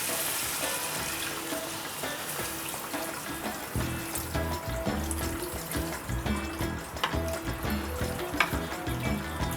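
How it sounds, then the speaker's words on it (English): Steady sizzling and frying in a pot with a watery rush as water goes in over spiced chicken for chicken kabuli, continuous and fairly loud throughout. "Now I'm adding the water."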